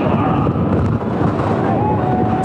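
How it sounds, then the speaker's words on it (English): Strong wind buffets an open mic at a college football stadium, a loud, constant low rumble and roar throughout. "if you're wondering how windy it is, you can hear it every time the ref turns his crowd mic off"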